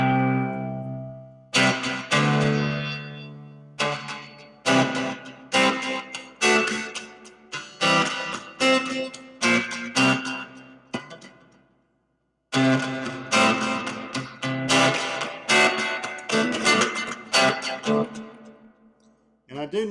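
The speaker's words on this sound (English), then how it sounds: "That's a delay with a big room reverb on it." A Fender Champion 20 amp plays guitar through a delay with big room reverb, a series of plucked notes and chords with echoing tails, one brief silent gap midway and no talking.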